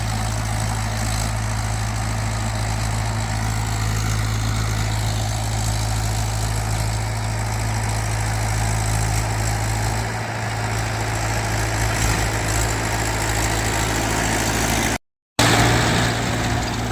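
A small tractor's diesel engine idles steadily and loudly nearby, a constant low rumble with no talk, broken only by a brief cut near the end.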